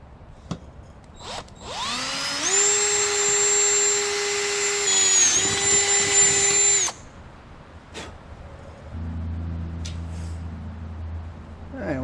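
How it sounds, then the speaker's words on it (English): A power drill boring through a metal bracket on a 1964 Ford Thunderbird, spinning up to a loud steady high whine for about four seconds before cutting off, followed by a lower rumbling hum. "I'm just going to drill out here through the bracket."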